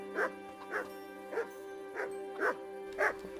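Dogs barking in the medieval role-playing game Kingdom Come Deliverance, six evenly spaced barks over a steady low background hum, moderately loud and without talk.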